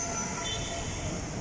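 Metro train rumbling through an airport metro station, a steady broadband roar with rail noise holding at constant level for the whole stretch, close and without speech.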